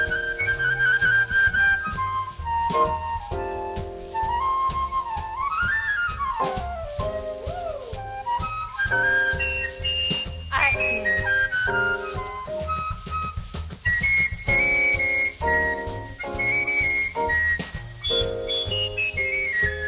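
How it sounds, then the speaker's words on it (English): Shrill, very high human whistling at a jazz showcase runs continuously in a sliding, tuneful line, with scattered clicks and other sounds mixed underneath. "don't think anybody can whistle that high."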